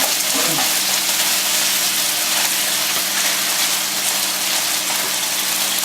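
Chicken pieces for udon noodles sizzle loudly in a hot pan, a dense, steady, close-up hiss that holds without a break and stands alone, with no voices.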